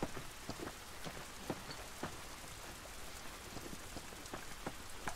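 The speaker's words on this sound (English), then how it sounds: "This rain ain't gonna do us any good." Steady rain falls in The Last of Us, with dense close droplets spattering on surfaces and scattered sharper drips, a continuous wash of water noise with no speech.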